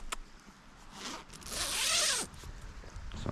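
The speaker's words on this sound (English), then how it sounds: "So I'm moving 3 zippers." Zippers on a Ridge Outdoor Gear 360 camping hammock are dragged along, close and clear, with a few short zips and then one longer, louder pull.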